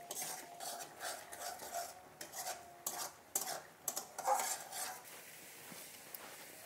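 A spoon stirs and scrapes Kashmiri chilli masala sautéing in oil in a pan for paneer korma, with irregular clinks and scrapes at close range over a faint sizzle, no voices.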